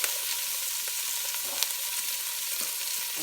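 Chopped onions and garlic cloves sizzling in olive oil in a pan, a bright, steady hiss with scattered crackles and pops, close and fairly loud, with no voices over it.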